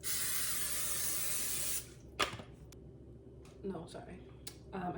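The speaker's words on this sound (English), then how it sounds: "I put olive oil spray" A close, steady hiss of cooking spray lasts under two seconds, followed by quiet kitchen sounds and faint clicks.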